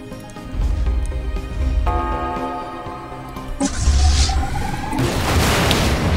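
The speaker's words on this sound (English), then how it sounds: "Asteroid destroyed." An asteroid exploding in the space strategy game Stellaris, heard as rolling deep booms and rumbling blasts that swell and repeat, loud and close with little else around them.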